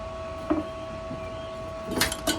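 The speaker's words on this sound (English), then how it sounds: "Let's pull the Clecos off and see how the panel looks." Cleco fasteners are pulled off a hand-formed sheet metal panel on a Cherokee and Rambler 4x4 build, giving a few short metallic clicks and snaps, spaced irregularly over a faint steady hum.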